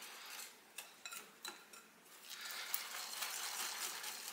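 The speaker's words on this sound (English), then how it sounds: "Okay, then I'm going to give this a good stir." A spoon knocks and scrapes against a bowl while eggs and oil are stirred into thick cookie batter, a few distinct taps followed by a continuous soft scraping, faint and close, with no talking.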